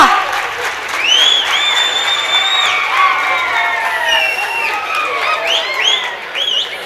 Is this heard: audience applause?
yes